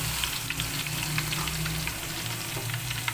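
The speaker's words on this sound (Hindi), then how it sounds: "अब इसमें लहसुन पेस्ट जो है वो ऐड करूँगी और मैंने इसे हल्का सा ब्राउन करना है" Garlic paste browning in hot oil in a pot for moong dal, a steady close sizzle and crackle with faint stirring, no voices.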